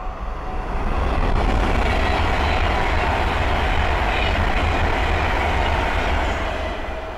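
A West Coast Class 390 Pendolino electric train passes on the West Coast Main Line at Linslade. A roar of wheels on rail swells quickly, holds loud and steady at close range, then eases off near the end.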